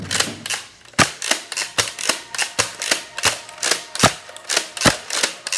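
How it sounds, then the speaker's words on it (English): Rapid bursts of gunfire from the 1995 crime film Heat, a dozen or more sharp cracking shots in an uneven, fast rhythm, loud and close, with no talk over them. "And the bad guy's gonna shoot us."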